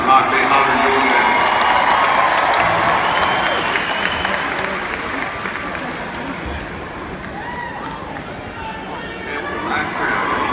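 A crowd applauds and cheers for a band at a live show, a dense wash of clapping that starts loud and slowly tapers, with voices shouting in the mix.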